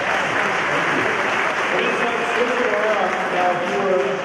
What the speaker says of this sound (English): One more big round of applause for Friday Jazz.